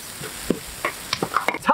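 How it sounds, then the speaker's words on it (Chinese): Chili bean paste, spices and dried chilies stir-fried in oil in a wok, a steady sizzle broken by repeated sharp scraping strokes of a spatula, close and fairly loud. "锅留底油，放个豆瓣酱，下到所有炒料。 炒香以后，放入干海椒通通。"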